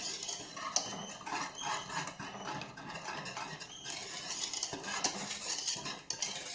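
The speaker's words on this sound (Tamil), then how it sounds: "அடிப்பிடிக்காத அளவுக்கு கிண்டிக்கிட்டே இருக்கணும்." A pot of kambu (pearl millet) porridge being stirred continuously over a low simmer, with steady scraping and clinking of a spoon against the pot, fairly loud and close, with no talk.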